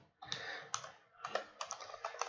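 Code is typed on a computer keyboard in two quick bursts of clicking keystrokes separated by a short pause, close and fairly quiet, with no speech.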